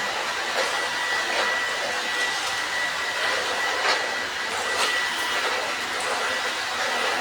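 A household vacuum cleaner runs with a steady, unbroken whooshing drone close by throughout, its pitch barely changing.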